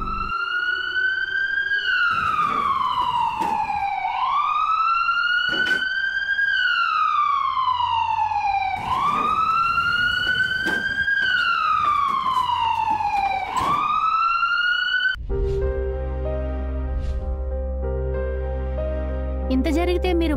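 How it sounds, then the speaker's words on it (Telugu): A loud wailing emergency siren on an ambulance sweeps up and down in repeated slow cycles, then gives way to a steady sustained electronic tone near the end. "అంబులెన్స్."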